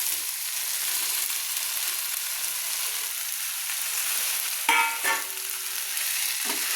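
A spoon stirs fried prawns into a simmering potol and potato curry, a soft steady sizzle in oil, then a few sharper scraping knocks of the utensil against the pan near the end.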